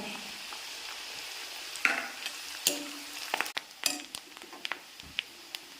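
Dried red chilies and curry leaves hit sesame oil for mango pickle, starting a steady soft sizzle that is broken by sharp pops and crackles and a few stirring scrapes.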